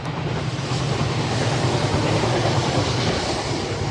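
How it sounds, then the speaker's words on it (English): A train rumbles past near Okitsu and Shimizu in Japan, a loud, steady roar of rolling wagons with a faint clatter throughout. "there goes a train"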